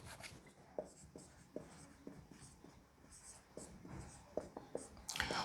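A pen scratches across paper while maths equations are worked out in a class lesson, a series of short quiet strokes and taps at an uneven pace, close by, with no talking.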